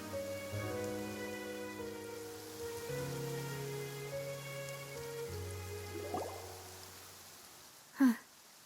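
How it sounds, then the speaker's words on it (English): Steady rain falling in Genshin Impact, a soft continuous hiss under a sustained musical score, with a brief sharp effect near the end. "It's been raining non-stop for a few days now."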